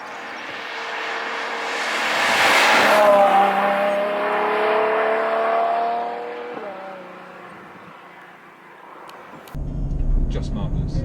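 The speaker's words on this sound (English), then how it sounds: "just the most incredible sound, which I think we've all just come to love from Ferrari once those valves are open" A Ferrari GTC4 Lusso V12 with its exhaust valves open sings a loud, rising engine note that swells and holds, then eases off into a low idling rumble near the end.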